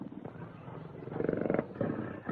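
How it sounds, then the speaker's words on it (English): A tiger, kept as a tame pet, gives deep growling roars that swell louder toward the end in a 1941 adventure serial scene, with no talking over it. "I vouch that Satan is the only tiger in all Africa."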